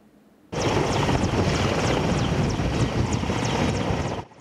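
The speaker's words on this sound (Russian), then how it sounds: "Еще мгновение, и воздушно-транспортный вертолет Ми-17 устремляется в небо." A Mi-17 military transport helicopter of the Kazakhstan air force takes off, its engine and rotor roar starting abruptly and holding as a loud, dense, steady wash close by, with faint rhythmic blade chop.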